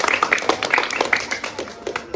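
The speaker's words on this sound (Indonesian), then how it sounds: "Berikan tepuk tangan untuk semuanya." Children clapping hands during a school volleyball PE lesson: quick, uneven claps mixed with young voices chattering and calling out at moderate loudness.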